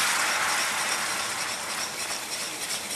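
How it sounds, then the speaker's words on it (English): A whisk working through a roux in a pan on the stove, a steady dense scraping swish that continues without a break, close and fairly loud, with no voices. "Now I'm going to gently whisk in"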